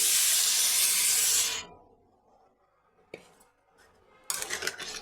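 Water poured into a hot pan of tomato and capsicum gives a loud hissing rush of steam that dies away after a second or so, followed by a light utensil clink and pan clatter.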